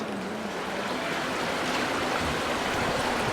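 Water splashes and flows continuously from a historic stone fountain in the old city of Bern, a steady rushing wash with no voices.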